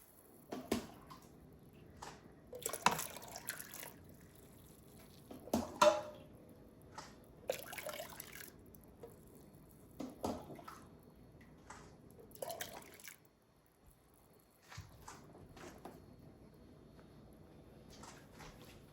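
Very hot water poured into a digital canner over jars, with intermittent splashing and dribbling bursts, close but quiet, with pauses in between.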